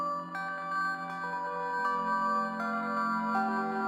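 Chase Bliss effects pedal with its reverb switched on, washing sustained layered tones into a shimmering bed while random sample-rate glitch bits blip in and out, steady and fairly quiet with no voices.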